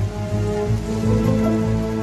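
Steady rain pours down, a dense continuous patter on surfaces with a low rumble underneath, loud and close.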